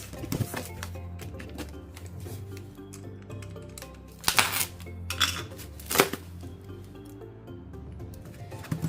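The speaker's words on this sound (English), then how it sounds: "So we put our spoon there" A spoon and other small items clink and rattle as they are placed and handled during an unboxing, with a few louder knocks among light tapping and rustling.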